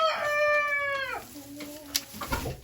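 Bantam hen at a country dacha calling out while laying, a drawn-out, harmonic cackling cry close by that trails off into softer clucks.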